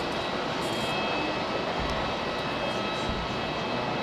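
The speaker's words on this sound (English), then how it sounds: "BA flight going this evening, not the one parked up" British Airways airliner departing Hamburg Airport in the evening, heard as a steady, broad engine roar at moderate distance, continuous throughout with no talk over it.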